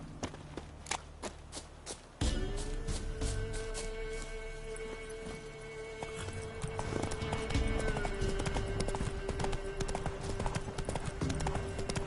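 Clip-clop of horse hooves at a steady gallop in The Witcher 3, the rhythmic thuds dense and close throughout, with a sustained tonal drone layered underneath.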